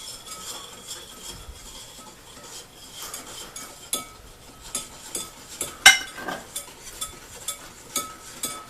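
A whisk stirring dry ingredients into a wet no-cook playdough mixture: quiet, steady scraping and clicking against a bowl in an uneven rhythm, with a few sharper taps, close and alone.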